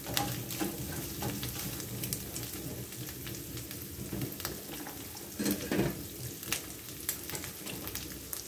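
Anchovies fry with garlic in a pan, a steady, dense sizzle at moderate volume that continues throughout, with occasional small stirring clicks and no voices.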